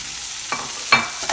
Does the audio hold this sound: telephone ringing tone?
no